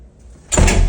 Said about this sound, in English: I was given a key, and it said maybe this key works for the secret other door. It does.